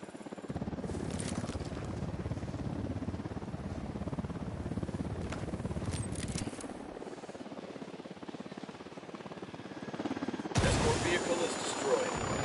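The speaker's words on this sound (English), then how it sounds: "Chopper's approaching." Helicopter in the Ghost Recon Wildlands video game drawing closer, a steady loud rotor roar with dense low thumping throughout, joined by gunfire-like bursts and a sudden louder surge near the end.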